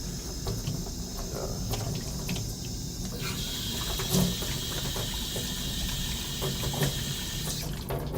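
Hot water runs from a tap in a steady, close hissing splash that continues throughout with no talk over it.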